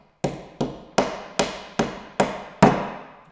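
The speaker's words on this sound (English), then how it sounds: "I'm going to use my hammer to slightly tap it into place." A hammer tapping a plastic wall anchor into a wall: seven sharp, evenly spaced knocks, close and fairly loud, each ringing briefly, with no voices.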